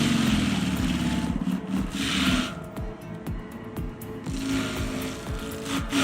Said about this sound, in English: An advanced forest equipment RX-52 rotary drum grinder tears into a giant stump like it's nothing but mulch waiting to happen.